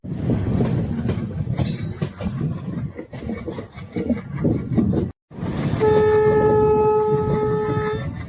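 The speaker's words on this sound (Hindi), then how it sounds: "ये साउंड जो है ना डीजल इंजन की बड़ी गजब है" Diesel locomotive hauling the Danapur–Jogbani Intercity Express, loud rumbling engine and rolling wheel clatter close by, a brief cut, then a sustained multi-tone horn blast over the continuing roar.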